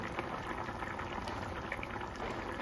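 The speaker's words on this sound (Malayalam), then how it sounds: "കണ്ടിട്ട് നമ്മുടെ കറി ഇങ്ങനെ തിളച്ച് വരുന്നുണ്ട്" A thick curry boils in a pot, giving a dense, steady bubbling and popping that runs continuously at an even level with no voices.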